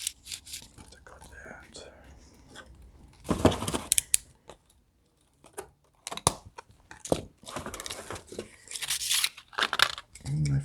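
Scissors cut and tear open the plastic packaging of quick clamps, with short close snips and crinkly ripping in uneven bursts and quiet talk between them.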